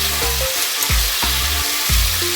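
Potato pieces drop into hot oil with softened tomato in a pan, sizzling and frying with stirring, close and fairly loud.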